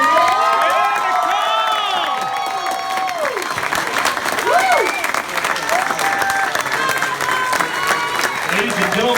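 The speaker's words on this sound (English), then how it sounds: "please keep the applause coming" Loud, sustained applause fills a wedding reception room, with cheering and whoops rising over the clapping, steady throughout.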